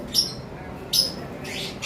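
Lovebirds give three short, bright chirping bursts, close and clear over a quiet background, with short gaps between the calls.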